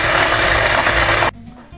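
Electric whisk whipping double cream mixed with Irish cream, a close, loud, steady motor whir that runs continuously and then cuts off abruptly, leaving a quiet kitchen.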